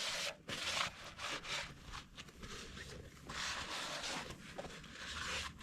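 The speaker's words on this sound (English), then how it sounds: "I want to take a rag and clean that all up" A rag is wiped over the engine block of a John Deere 4840 tractor during an overhaul. Quiet, close rubbing strokes come in uneven bursts with short pauses between them.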